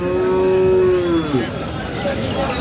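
Native Kangeyam-breed cattle at the Kundadam Saturday cattle market in Tiruppur moo in one long, loud, close call, followed by fainter market background noise.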